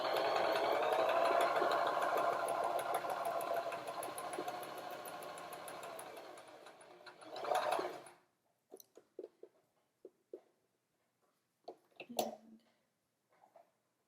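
A sewing machine runs continuously for about eight seconds stitching a quarter-inch seam along fabric, a steady close whirring hum, then stops, followed by scattered soft clicks and handling sounds.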